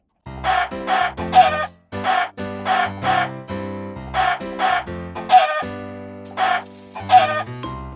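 Video game chickens cluck in quick repeated bursts of three or four, loud and close, with a steady rhythm and no talking.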